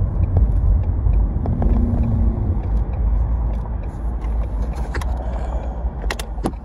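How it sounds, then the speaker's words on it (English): A 2018 Ford Mustang EcoBoost Convertible drives with a steady, loud low engine rumble and road noise heard from inside the cabin, broken by a few faint clicks and rattles. "I'm gonna be doing some acceleration for sure."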